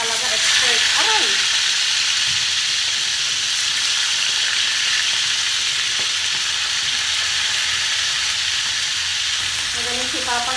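Food fries in a hot pan with a constant, close sizzle and crackle, and brief voices are heard at the start and end.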